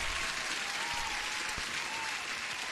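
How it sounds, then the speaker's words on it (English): Applause from a crowd during a live futures trading stream, a steady wash of clapping that fills the whole stretch at moderate loudness, with no voices over it. "and huge applause for everyone"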